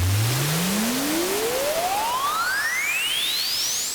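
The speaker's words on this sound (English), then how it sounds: "With the FM synth, you can combine noise and tones with pitch and filters to get a really good, well-designed riser" A riser from an FM synth on the Dirtywave M8 mixing noise and tone through a resonant high-pass filter, one loud continuous tone sweeping steadily upward in pitch over about four seconds atop a hissing noise bed.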